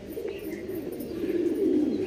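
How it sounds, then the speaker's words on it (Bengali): Pigeons cooing at a loft, low soft throaty coos repeating over a steady background murmur, fairly close and moderately quiet, with no clear speech. "দেখুন পায়রা দেখুন"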